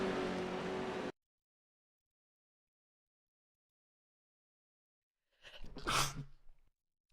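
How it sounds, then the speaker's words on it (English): A single loud sneeze bursts out after a stretch of silence, following a brief burst of noise at the start. "I had to sneeze."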